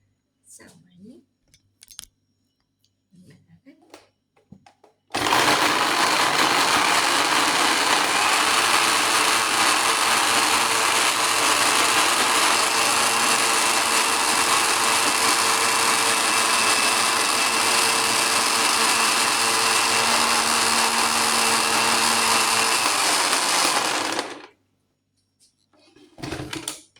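Blender running continuously for about twenty seconds while blending an avocado smoothie, a loud steady whirring roar that starts and stops abruptly, with quieter handling noises before and after.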